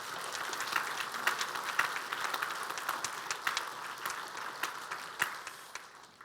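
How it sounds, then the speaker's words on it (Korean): A church congregation applauds after a choir performance, producing soft, scattered clapping that sounds distant and fairly faint, tapering off toward the end. "박수 한번 쳐"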